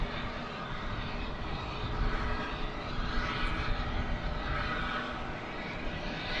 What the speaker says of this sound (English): You are looking at Frontier Flight 1503 headed to Denver.